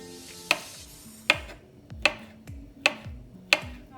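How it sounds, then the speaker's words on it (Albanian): A knife slices a small carrot into thin slices on a cutting board, five crisp, evenly spaced chops roughly three-quarters of a second apart, close and clear. "karrota është e vogël dhe pritet kështu në feta të holla"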